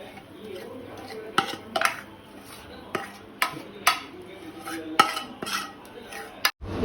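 Cake mixture, seven cups' worth, scraped from a pan onto a plate with a utensil: repeated sharp metallic scrapes and clinks in an irregular rhythm, close and moderately loud, with kitchen background.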